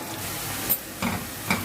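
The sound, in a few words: onions frying in a pan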